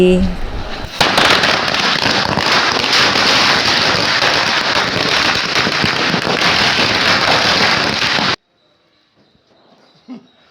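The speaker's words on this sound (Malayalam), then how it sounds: "അടുത്ത് 1000 വല വെക്കാൻ പോവാണ്" A long string of Diwali firecrackers bursts in a dense, rapid crackle for several seconds, then stops abruptly into near silence.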